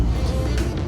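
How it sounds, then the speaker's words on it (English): A car engine runs with a steady, close low rumble and a faint breathy hiss above it, loud and unbroken for a brief moment. "It's a turbocharged version, so sorry for the noise here, guys."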